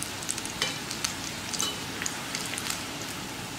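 Sweet maida bonda sizzle in hot oil as they are turned over, a steady fizzing crackle broken by light scraping and clicking as the pieces are flipped, with no voices.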